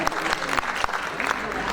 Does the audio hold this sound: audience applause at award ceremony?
yes